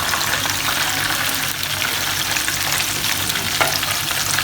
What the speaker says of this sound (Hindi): अब चिकन को हम बाहर निकालते हैं और इसी तरह से बाकी के भी पीसेस हम फ्राई कर लेते हैं